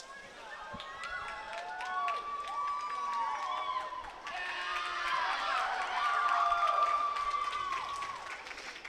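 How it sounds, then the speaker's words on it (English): Teammates cheer and shout for a girl swimming the 100-yard freestyle at a high school swim and dive invitational at Eastern Hancock, a sustained chorus of high voices echoing in an indoor pool hall with applause, growing louder toward the finish. "Veronica Kring's teammates are cheering her on"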